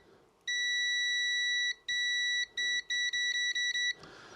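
A multimeter sounds its continuity beep while testing a 49:1 unun transformer for an HF antenna: one long tone, a second long tone, then a run of short rapid beeps, close and clear with no talk.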